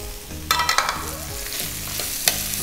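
Prawns tossed and fried in a pan with onion, chilli sauce, tomato sauce and ginger-garlic paste, giving a steady close sizzle broken by a few sharp scraping stirs, with a low hum underneath.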